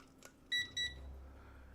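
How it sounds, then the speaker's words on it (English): A small timer set for a miniature painting session gives two short, bright electronic beeps in quick succession, clear and close over a quiet room with no voices. "I set a little timer for myself."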